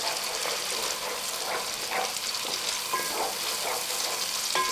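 Masala paste frying in oil in a pan for a Mughlai mutton kofta gravy, a steady loud sizzle with occasional scraping stir sounds and no talking.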